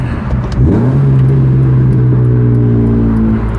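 A BMW E46 M3 with a loud aftermarket exhaust accelerates hard, its engine note climbing in a steady rising drone that stays loud and close throughout.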